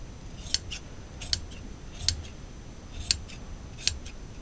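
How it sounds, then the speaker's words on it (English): Five sharp snips of sharp scissors cutting through two layers of fabric, spaced about a second apart, close and crisp against a quiet background. "these scissors are sharp enough to go through 2 layers of cloth"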